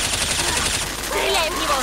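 Rapid automatic gunfire in the video game Left 4 Dead 2 during a co-op custom LEGO campaign, loud bursts filling the moment while players talk over it.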